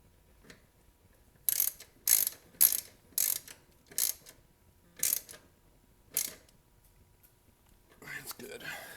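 A tool tightens a part back up on a Briggs & Stratton walk-behind lawn mower engine during a tune-up. About eight short, close ratcheting bursts come in an uneven rhythm, then a longer rasping stretch at the end.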